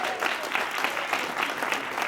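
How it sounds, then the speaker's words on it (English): An audience at an evening gathering gives a round of applause for an honoree, sustained crowd clapping with a faintly pulsing rhythm throughout, with no voice over it. "Would you give him a big round of applause?"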